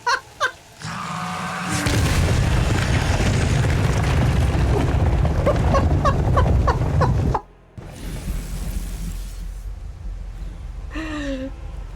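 A fish missile spell slams home in Pathfinder: Wrath of the Righteous, a loud booming blast that rumbles on for several seconds, then cuts out briefly before lighter battle noise and effects return.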